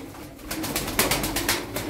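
Tumbler pigeons cooing close by, a run of soft, repeated throaty coos in a quick rhythm, heard alone with no talk.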